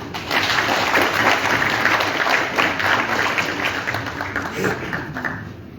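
An audience at the Pan African Culture Congress in the Palais du Peuple applauds after a speech, a thick, continuous round of clapping that swells early and slowly tapers toward the end.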